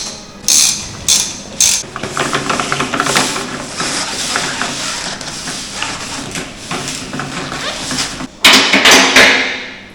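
A ratchet tightens the new rear suspension bolts on a MK1 Golf, with rapid clicking bursts, short pauses between strokes and a louder final flurry, close and clear with no talking.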